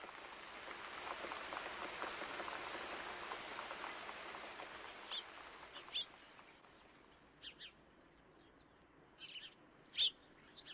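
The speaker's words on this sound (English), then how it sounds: "It rained a lot, and the street gutters were full of water." Heavy rain pours down and fills the street gutters with water, making a soft, steady wash of noise that fades a little over time. Scattered bird calls chirp in the background.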